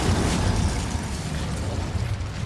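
In Hogwarts Legacy, the Incendio fire spell is cast: a dense, roaring burst of flame and crackling noise that stays loud and steady for a couple of seconds with no voices.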